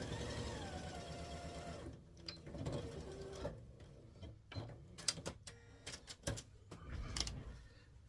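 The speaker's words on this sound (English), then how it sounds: "So I'm just going to release that thread and go back in and sew that again." A sewing machine stitching a seam on a charm-pack table runner: a whirring motor run at first, then short bursts of rapid mechanical ticking and clatter, close and fairly quiet.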